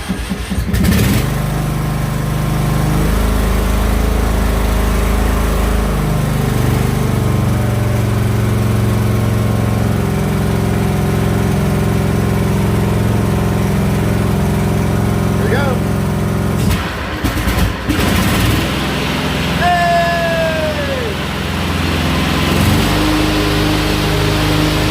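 A Craftsman riding lawn mower with a 46-inch deck starts and runs loud and close. The engine drones steadily, with shifts in pitch and a rough, uneven stretch partway through as it revs.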